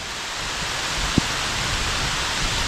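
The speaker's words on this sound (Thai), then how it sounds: "เจอพายุฝนถล่มแล้ว" Heavy rainstorm pouring down outdoors: a dense, steady roar of rain that holds at one level throughout, with a single short thump just past the midpoint.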